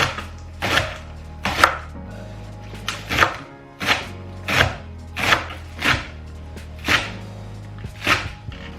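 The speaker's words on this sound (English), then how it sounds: "So after cutting all the onion, all the spring onion, you set it aside." A knife chops spring onions for scallion pancakes, striking the board in about ten separate loud, close thunks at a slow, even pace, with quiet between strokes and no talking.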